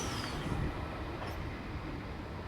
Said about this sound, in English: V12 and V43 arriving into platform number 1 for a Central Sydney terminal service.